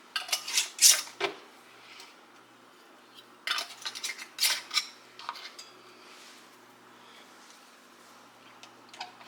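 Metal canning jar rings and lids clink and clatter into a canner while salsa verde is being preserved, with several sharp clustered rattles early on, then scattered fainter metallic taps against a quiet background.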